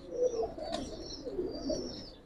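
Two matched pigeons with the same pattern, ring and eyes coo softly in low, burbling phrases at close range, with faint higher chirps from nearby birds.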